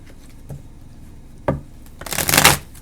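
Playing cards riffled in a quick shuffle, a short papery burst that swells loudly and then stops, preceded by a couple of soft taps.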